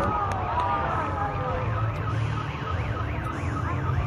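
Car alarms wail in a rising and falling warble over a loud, busy crowd-like background, with a few sharp clicks.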